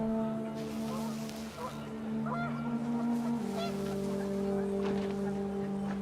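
Panicked geese honk in the video game What Remains of Edith Finch as the wind picks up. Scattered honks sound over sustained tonal music and ambience.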